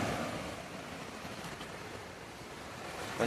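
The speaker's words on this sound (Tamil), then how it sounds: "பாருங்கள் எவ்வளோ ஃபாஸ்ட்டாக போகுது, நீங்களே பாருங்கள் தண்ணி." Fast river water rushes past in a steady, unbroken roar, loud and close, with no voices.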